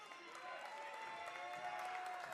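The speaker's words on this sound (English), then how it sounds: "Crowd loves it. Home team getting some support." Crowd at a high school basketball game between St. Rose and Hudson Catholic, a steady wash of applause and cheering from a distant mass of spectators, with a sustained whistle-like tone running through it.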